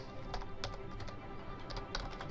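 Rapid keystrokes on a computer keyboard as a Cisco IOS router command is entered at the console line, with steady, close clicking in uneven bursts and no voices.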